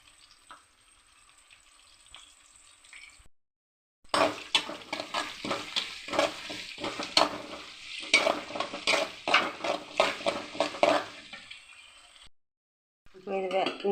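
Onion, green chilli and curry leaves hit hot oil for a mutton kulambu and are stirred. A loud sizzle comes with rhythmic scraping of the spoon against the pan for about eight seconds, framed by quieter gaps and a voice.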